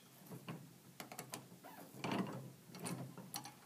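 Ratcheting clicks from the back end of a Ride wrench tightening a Ride FlexLoc permanent mount, a quiet run of short irregular mechanical clicks and grinds close by.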